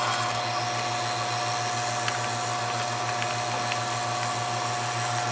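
A vacuum pump runs steadily while evacuating the air-conditioning system of a 1994 Saab 9000 through a gauge manifold, giving a constant mechanical hum with a droning tone, close and unbroken throughout.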